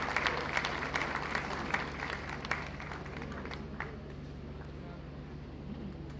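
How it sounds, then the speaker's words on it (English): Audience at a university inaugural lecture applauds a vice chancellor: sustained crisp clapping from many hands that gradually thins and softens, with some voices underneath. "I think the Vice Chancellor deserves another round of applause."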